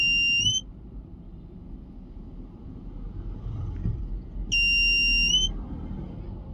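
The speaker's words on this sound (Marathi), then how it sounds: "मी ब्रेक प्रेस करतो, सेन्सर बीप करायला लागला." A front parking sensor on a Maruti XL6 CNG beeps in two short electronic bursts several seconds apart, clear and close against a low cabin rumble.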